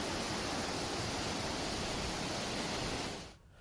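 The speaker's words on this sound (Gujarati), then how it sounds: "વરસાદી માહોલમાં જટાશંકર ધામમાં ઝરણામાંથી પડતા પાણીના ધોધને ભક્તોએ નિહાળ્યો હતો" Waterfall spilling from a stream at Jatashankar Dham, Bundelkhand, during monsoon rain, a dense, loud, continuous roar of falling water that cuts off abruptly near the end.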